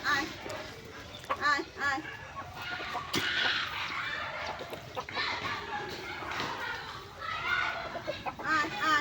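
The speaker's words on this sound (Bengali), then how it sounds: "তো মুরগিগুলোকে ছেড়েই দিলাম" Free-ranging village chickens let out on a winter morning give repeated close clucks, with a few louder calls mixed in, beneath ongoing talk.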